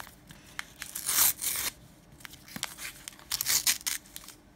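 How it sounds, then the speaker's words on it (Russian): Plastic packet of cosmetics being struggled open, with bursts of crinkling and tearing in two main clusters separated by small rustles and clicks, close and fairly quiet. "никак не могу открыть пакетик"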